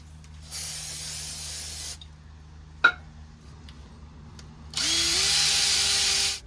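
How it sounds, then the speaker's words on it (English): Brake parts cleaner sprays in two long hissing bursts onto the wheel hub of a 2019 Subaru Forester, separated by quiet and a single sharp metallic knock, recorded up close. "clean off this hub surface with some brake parts cleaner and wire brush"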